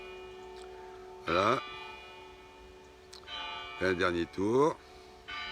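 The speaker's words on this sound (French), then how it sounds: "Ah, là, vous entendez la cloche de Fatima." Church bell of Fatima rings at a campervan park, faint steady tolling in the background while someone speaks briefly in French over it.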